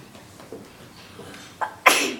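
A single sharp sneeze near the end, loud and close, after a quiet stretch with faint background murmur.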